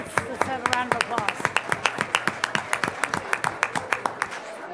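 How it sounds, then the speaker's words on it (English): An audience at a lecture series claps in a brisk, steady rhythm of sharp hand claps that settles into a fairly even beat, with voices mixed in at the start. "Let's have a round of applause."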